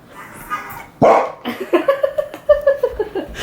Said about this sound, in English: And she got to this part where like this horn honk goes off, and every single time we get a little bark out of Nuna.